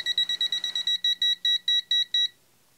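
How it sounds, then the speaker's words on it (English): TOPTES PT520A gas detector alarm beeping fast at first, then slowing to evenly spaced loud electronic beeps before stopping, close and alone. "if you watch when the alarm goes off or stops going off"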